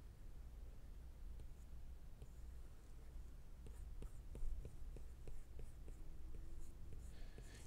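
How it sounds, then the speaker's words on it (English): A stylus scratches and taps across a drawing tablet while sketching clouds: faint, close strokes and light ticks over quiet background hiss. "let's draw just some clouds"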